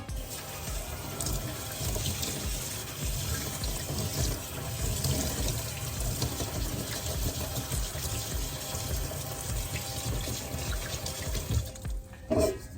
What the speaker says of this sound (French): Comme pour les lentilles, je le rince abondamment.